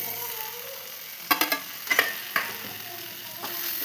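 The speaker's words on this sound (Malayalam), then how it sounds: "പൊടികളൊക്കെ ഒന്ന് മൂത്ത് വരുന്നത് വരെ ഇളക്കി കൊടുക്കാം" Coriander and chili powder stirred as they fry in a pan, a few quick scrapes and taps of the spoon over a soft steady sizzle, close and moderately loud.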